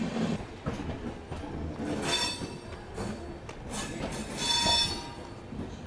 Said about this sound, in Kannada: super fast express overtake ಮಾಡೋಕತ್ತೆ